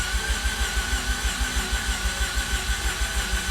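A flooded Mazda RX8 rotary engine cranks on the starter without catching, a steady rapid pulsing churn that stays loud and even throughout.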